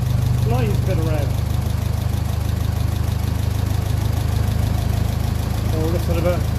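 A 1957 Ferguson 35 tractor engine running on kerosene idles close by at operating temperature, a steady, low constant rumbling drone with a slight lift in revs to about 850 rpm, and brief bits of speech over it.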